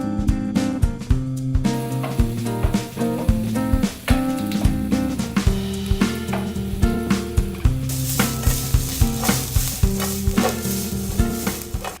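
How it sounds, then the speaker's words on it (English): Onions and garlic sizzle steadily as they fry in hot oil while a utensil scrapes and stirs the pan in a regular rhythm, with no talking. "get our onions and garlic in the pan, get them frying off"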